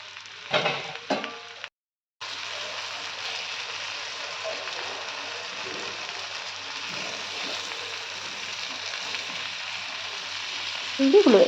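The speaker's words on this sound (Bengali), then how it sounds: "চিংড়িগুলো খুব কড়া করে ভাজবো না, একটু হালকা করেই ভেজে নেব।" Prawns frying lightly in oil in a pan give a steady, moderate sizzle and crackle throughout, broken early by a few clanks and a brief pause, with a clatter at the end.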